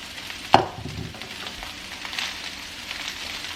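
Sliced mushrooms, water chestnuts and edamame cooking in a big pan, a steady soft sizzle with one sharp clack near the start, then a low continuous frying hiss.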